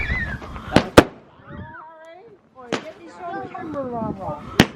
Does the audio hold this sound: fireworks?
yes